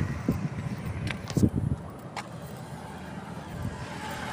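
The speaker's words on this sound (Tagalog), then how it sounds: "Nakatakot din po kasi mabilis ng sasakyan dito." Vehicles speed past on the Baao bypass road, a distant roar that swells with a few brief bumps and then settles into a low steady rumble under outdoor ambience.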